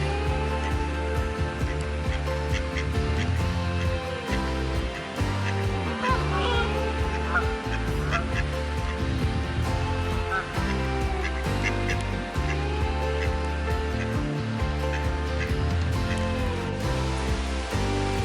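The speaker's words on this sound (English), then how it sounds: "Now the ducks are trying to mug me." Several ducks quack and honk noisily close by in a park, overlapping calls running continuously over a busy outdoor background.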